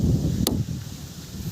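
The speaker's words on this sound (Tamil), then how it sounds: "ஏன்னா இங்கே காற்று பயங்கரமாக அடிக்குது." Steady, heavy wind rumbles and buffets against the microphone while riding a 2023 TVS Apache 200 4V motorcycle, with a short sharp click partway through.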